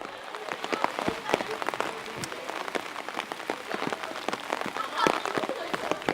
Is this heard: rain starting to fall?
yes